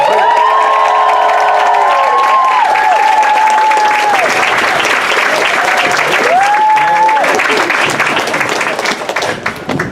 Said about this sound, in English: Can we have a round of applause for them?